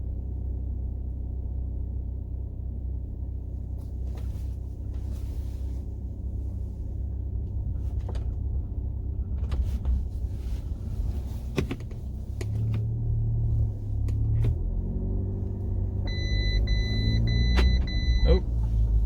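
An Audi S3 with a stage 2 tune and fresh spark plugs rumbles through a drive, a low steady engine drone that swells as it builds speed near the end, with a few brief clicks and a chime over it.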